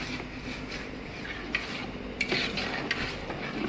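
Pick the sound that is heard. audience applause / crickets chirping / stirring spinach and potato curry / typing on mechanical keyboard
stirring spinach and potato curry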